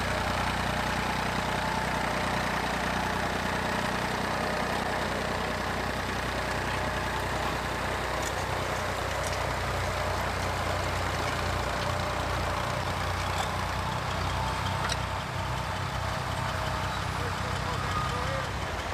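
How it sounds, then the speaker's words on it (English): A David Brown 880 Implematic tractor with a post-1964 three-cylinder engine runs steadily nearby, giving a constant, even engine drone for the whole stretch. "This one has the 3-cylinder engine, which makes it post 1964."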